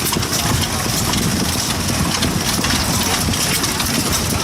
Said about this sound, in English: John Deere motor popping away there.